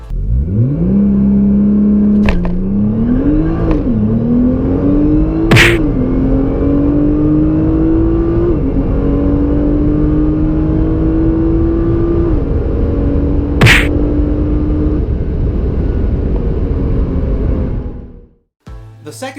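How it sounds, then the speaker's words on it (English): Nissan GT-R launched hard from a standstill at a drag strip without launch control, engine roaring loudly and rising through several gear changes over about eighteen seconds, then cutting off abruptly. "just step on the gas pedal when the drag race tree turned green instead of using launch control"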